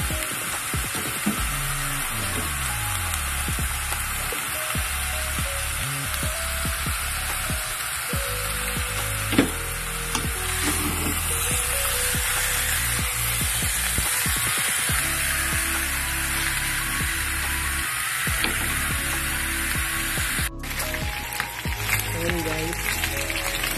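Pork sizzling steadily in a pan as its fat renders out for humba, a continuous crackling hiss with occasional stirring clinks, heard beneath a person talking.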